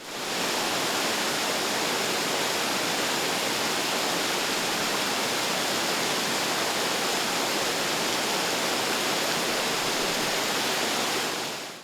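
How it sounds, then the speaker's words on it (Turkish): Günpınar waterfall drops about 40 metres in three tiers, producing a steady, dense, loud roar of falling water that continues unbroken throughout, with no voices. "suyu kaynağından 3 kademe halinde yaklaşık 40 metre yükseklikten dökülmektedir"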